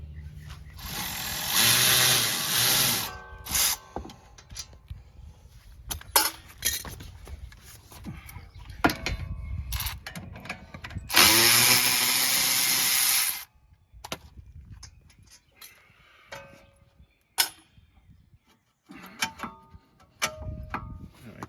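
Brake caliper bolts come off the rear wheel of a Lincoln MKX or Ford Edge with tools: bursts of air-tool or ratchet whirring, metallic clanks and clicks, close and loud, with pauses between them.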